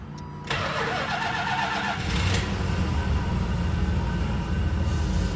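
A 1982 Imperial with its original EFI fires up after 27 years sitting: a short cranking burst gives way to a loud, steady engine idle that continues alone to the end.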